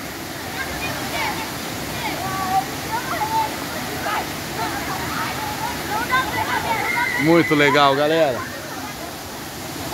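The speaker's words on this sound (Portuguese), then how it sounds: "Agora é o barulhinho da água doce aqui de Ubatuba, dessa queda da cachoeira do Ipiranguinha" Steady rushing of the Ipiranguinha waterfall in Ubatuba, Brazil, fills the background while a person speaks briefly in Portuguese over it near the end.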